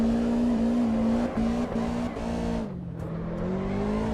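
A road car in Assetto Corsa EVO holds a loud, steady engine note, cut by brief dips around gear changes, then drops in pitch and rises again, with a faint hint of tire squeal.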